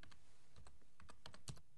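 Fingers tapping out a short word on a computer keyboard at a desk, a quick run of soft, close clicks in a quiet room.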